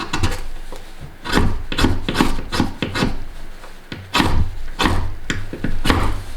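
Rhythmic strokes of a knife spine scraping along a very hard ferro rod, the blade a quarter-inch-thick Schrade SCHF56LM Frontier, roughly a dozen close, rasping passes in steady bursts with brief pauses between.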